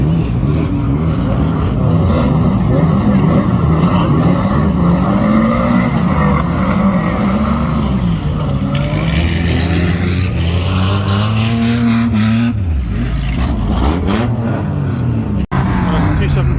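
Unlimited banger race cars, including American cars, roar around Barford Raceway in Scotland at a Christmas race meeting, engines revving and straining continuously, close and loud, with a commentator talking over the racing.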